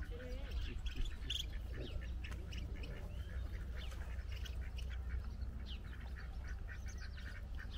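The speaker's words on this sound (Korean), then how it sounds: "얘네는 오리고" Ducks quack and squawk near a large lake along a forest path on the Camino between Logroño and Nájera, intermittent calls over steady ambient noise and light voices.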